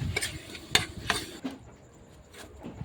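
Minced pork stir-fried in a pan with a metal spatula for Thai basil pork, quick scraping and clinking strokes against the pan over a soft sizzle, the strokes thinning out into quieter frying.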